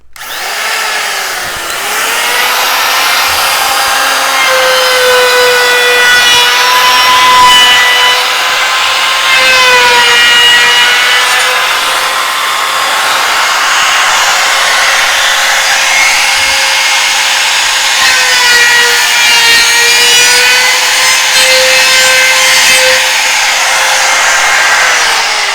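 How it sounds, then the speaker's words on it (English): A router runs steadily for the whole stretch, cutting the wood of a spin top with a loud, sustained whine whose pitch dips and rises slightly as the bit meets the wood. "router here, and we're going to turn it on"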